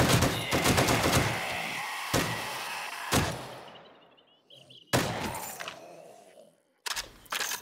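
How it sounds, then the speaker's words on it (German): Automatic gunfire in the survival game 7 Days to Die, with rapid bursts of loud shots that stop during a short quiet gap and then start again. "natürlich rasseln hier die Schuss auch deutlich schneller durch"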